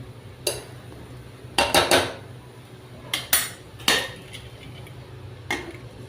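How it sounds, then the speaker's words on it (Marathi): Metal pots and a pressure cooker lid clank in a kitchen while shahi mutton masala is being cooked, a series of sharp, fairly close metallic knocks and clatters spaced irregularly, some in quick pairs, with no talking. "कुकरवर झाकण ठेवून ते"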